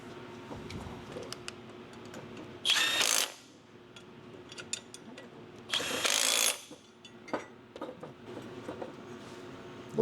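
A ratchet tightens a ball joint on a Toro 3320 mower, giving two short bursts of rapid clicking close by with quieter clatter and handling noises between them; no one speaks.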